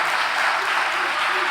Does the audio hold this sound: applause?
yes